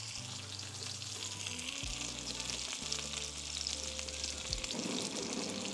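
Donair burgers fry in avocado oil over an open propane flame, a dense, steady sizzle crackling close by and loud throughout, with no talk.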